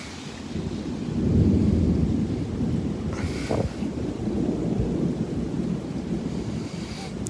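Thunderstorm in Houston with a steady roar of heavy rain and wind and a low rumble of thunder, plus a brief sharp crack partway through, continuous and fairly loud throughout.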